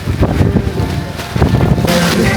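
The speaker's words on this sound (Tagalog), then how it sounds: "Nakikita po natin na grabe ang fogs at ang lakas ng hangin." Strong wind with heavy fog in Vietnam buffeting the microphone in loud, gusty rumbles, continuous and close, with no voices.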